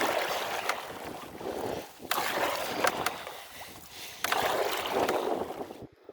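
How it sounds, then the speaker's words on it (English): A solo canoe is paddled upstream along a river arm on the Rideau Canal, with gusty wind buffeting the microphone and repeated water swishes from the strokes. "So I've got my work cut out for myself to paddle up this arm of the river here."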